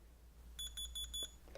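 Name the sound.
Groclock alarm clock beeping as key lock turns off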